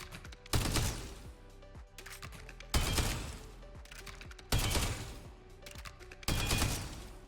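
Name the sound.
weapon reload canceled and shooting in the video game Spectre Divide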